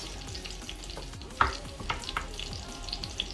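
Steady crackling sizzle of meat frying in a pan, with a few sharper pops and light scraping, no voices.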